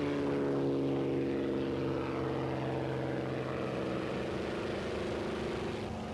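A Spitfire propeller aircraft drones steadily at a distance, its engine hum holding a low, even tone with a faint wash of wind noise.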